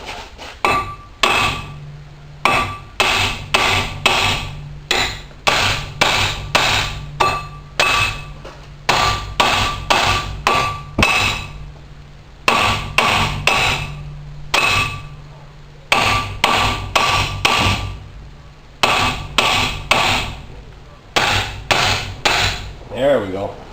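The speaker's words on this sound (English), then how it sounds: "I wore out all the protective plastic on my hammer" Repeated hammer blows on a wheel bearing ring out in rapid bursts of clanging strikes with short pauses between groups, close and loud.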